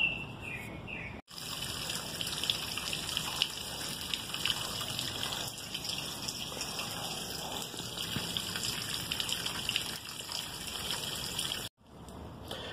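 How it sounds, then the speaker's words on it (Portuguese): Water gushes steadily from a cut water pipe, a continuous loud rushing hiss broken only by short silences at the start and end, with faint bird chirps in the background. "Mas ainda vai cair bastante água."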